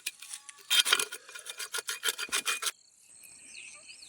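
A stuck nut is cut off with rapid, rasping back-and-forth strokes that form a quick rhythmic burst lasting about two seconds, close and fairly quiet, then stop with a faint metallic ring after.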